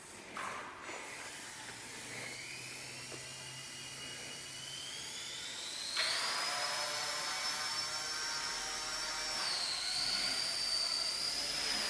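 Small RC helicopter flying, a thin high-pitched motor whine that climbs in pitch and holds steady for about twelve seconds, faint and fairly distant with no talking.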